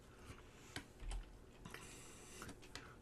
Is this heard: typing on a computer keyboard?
yes